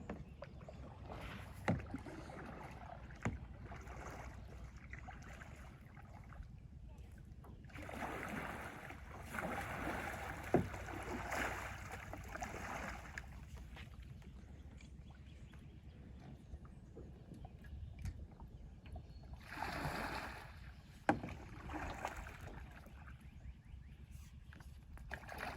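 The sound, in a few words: paddling a Kaku Kahuna kayak on water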